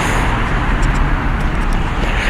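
Heavy trucks driving close by make a loud, steady broadband roar of traffic noise with no talking.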